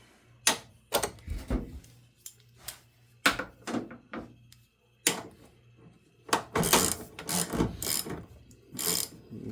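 A seat belt bolt with a spacer is threaded in and tightened on a 1996 Mazda Miata. Close, irregular bursts of ratcheting and scraping strokes are separated by short pauses, with no speech.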